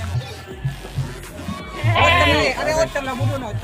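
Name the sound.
Etawa goats bleating at a goat market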